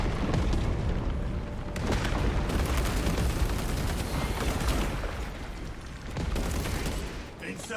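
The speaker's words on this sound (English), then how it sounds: "The defensive cannons will terminate it." Defensive cannons fire in a video game, a dense, continuous barrage of heavy booms and blasts with rolling rumble, and voices speak beneath the noise.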